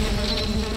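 Bees from a beehive in the video game Valheim make a steady, loud buzzing drone that fills the whole short moment with no break.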